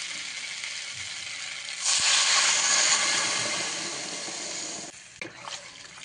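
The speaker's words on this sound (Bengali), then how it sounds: "এর মধ্যে জল দিয়ে দিলাম।" Water is poured into a frying pan of fried vegetables while cooking a koi fish curry, making a loud rushing hiss and sizzle that swells after a couple of seconds and then eases off.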